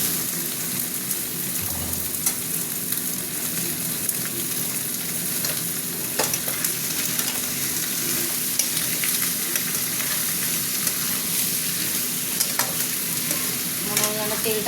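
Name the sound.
chicken frying and being stirred with fried onions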